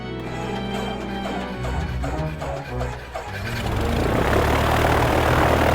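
A propeller airplane, the kind flown solo across the Atlantic, roars in as a steady broad drone that swells and overtakes the music playing beneath it.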